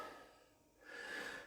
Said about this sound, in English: Forgive my breathing.